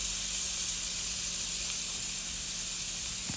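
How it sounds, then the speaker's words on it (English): Four half-cut pieces of bacon frying in a hot pan give a steady, close, loud sizzle, a continuous bright hiss with no pauses. "So you want to let that sizzle and get brown."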